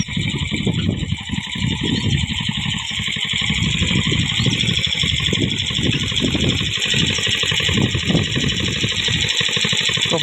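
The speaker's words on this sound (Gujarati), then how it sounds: "महेश भाई આપણે ટ્રેક્ટર બનાવ્યું છે તો મોટરસાઇકલનું એન્જિન છે" A homemade tractor powered by a motorcycle engine runs steadily nearby, its sputtering engine note continuous and loud throughout, with faint voices underneath.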